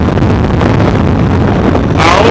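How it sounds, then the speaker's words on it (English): Heavy, constant wind buffeting the microphone while riding a motorcycle, a loud close rumble that roars steadily throughout and swells louder near the end. "it's so windy."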